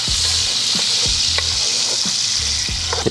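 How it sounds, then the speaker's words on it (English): Onions sizzling in hot oil in a pot, a loud, steady crackling hiss close by, with occasional stirring scrapes and low thumps breaking through the continuous fry. "Now that I got my oil back up to temp, I always start, anytime I'm doing anything, I start with my onions first"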